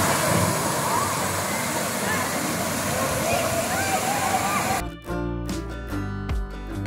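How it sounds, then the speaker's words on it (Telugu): Chaparai waterfall rushes over rocks in a steady, dense roar of falling water, close and continuous, before a voice begins speaking over it near the end. "Chaparai water falls."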